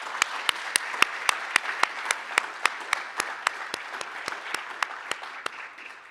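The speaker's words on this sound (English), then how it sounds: "let's give them a big round of applause" Audience at the Nova Scotia Human Rights Awards ceremony applauds the drummers: a wash of clapping marked by steady, evenly spaced sharp beats, which fade slightly toward the end.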